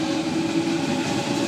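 A Sydney Trains service at Strathfield station gives a steady, close rumble of rolling rail cars, continuous and even for the whole short stretch with no voices.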